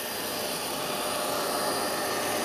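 Hoover Globe GL1110 upright vacuum cleaner with an 1100-watt motor running steadily at close range, a continuous broadband motor whine and airflow hiss with no speech over it.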